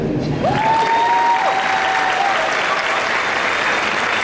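Loud, sustained applause from a large graduation audience, dense clapping filling the whole stretch, with a brief faint tone gliding over it.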